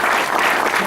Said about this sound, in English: I really want to give a round of applause to our crab feed people